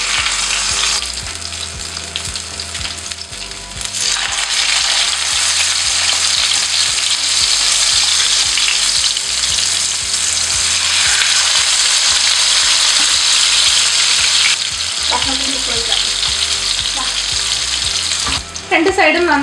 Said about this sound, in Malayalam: അപ്പോൾ നമുക്ക് മീഡിയം ഫ്ലെയിമിൽ വെച്ചിട്ട് ഇതൊന്ന് ഫ്രൈ ചെയ്തിട്ട് മാറ്റി വയ്ക്കാം.